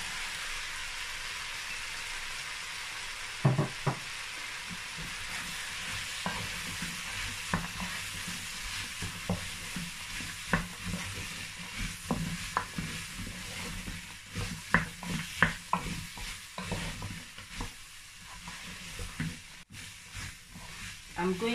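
Vegetables for vegetable rice hiss and crackle in a hot pan as a spoon stirs them repeatedly, with irregular scraping clatters rising over a steady sizzle close by.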